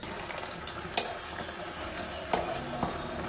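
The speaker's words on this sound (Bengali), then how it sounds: "আলু ভাজা হয়ে গেল, নামিয়ে বড়ি ভাজবো। কড়াতে দিয়ে দিলাম তেল" Faint, soft sizzling of bori lentil dumplings frying in white oil in a wok, steady and low with a few small ticks and pops.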